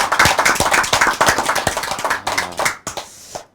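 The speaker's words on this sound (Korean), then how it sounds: "박수 한번 주세요." An audience at a Korean speech programme claps, a dense burst of hand claps that thins out and fades within a few seconds.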